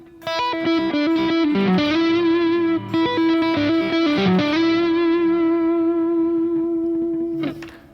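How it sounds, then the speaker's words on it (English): A distorted electric guitar plays a quick lick of picked and bent notes, ending on a long sustained ringing note. "That one sounds super cool."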